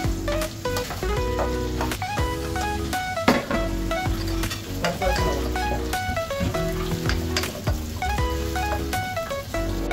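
Onion frying in cooking oil in a pan, a continuous crackling sizzle with scattered pops and a rhythmic tonal pattern beneath, close and loud.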